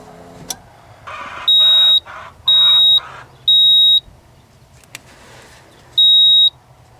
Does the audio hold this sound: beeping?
yes